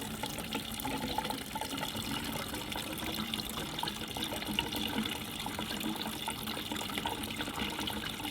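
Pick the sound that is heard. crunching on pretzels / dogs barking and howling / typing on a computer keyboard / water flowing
water flowing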